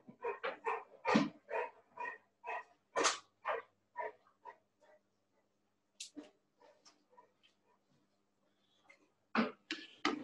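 A dog barking at home during a work-from-home session, a series of repeated barks and short yelps in bursts with pauses between them, fairly close and clear.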